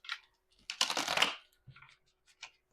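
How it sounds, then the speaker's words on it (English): Tarot cards being shuffled by hand: short bursts of crisp riffling and card flutter, one longer rustle in the middle, with quiet gaps between, close and fairly soft. "Why is this so hard to shuffle?"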